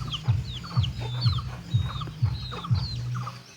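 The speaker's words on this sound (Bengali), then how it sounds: "দেখো একটা মুরগি ছাও কত সুন্দর দেখা যায়" Chickens clucking nearby in steady repeated bursts, with higher chirps from chicks above them and no talk.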